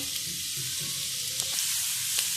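Leftover vegetable peels fry in a spoonful of oil in a pan over low heat, giving a steady, soft hissing sizzle with occasional small pops and no voices.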